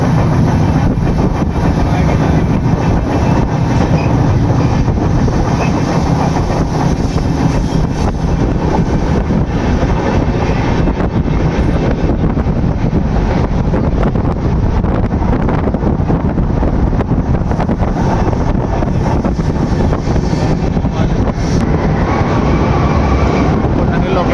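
A passenger train running through a tunnel on the Agra to Katra route into Kashmir, a loud, steady roaring rumble with heavy wind buffeting that continues unbroken and close for the whole stretch.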